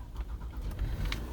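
A second-generation Toyota Alphard's engine turns over and settles into a low, quiet idle, a soft steady hum heard close inside the vehicle without talk.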